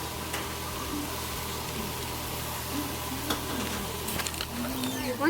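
Celery and thyme sizzle steadily in a pot of vegetarian gumbo while being stirred, a continuous close frying hiss with occasional faint scrapes of the spoon throughout.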